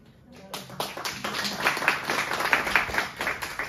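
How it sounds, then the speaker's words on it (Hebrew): An audience claps at a gathering, the applause building quickly from quiet into a sustained, dense patter of many hands that holds steady, with faint voices mixed in. "זה טוב שמחאים כפיים"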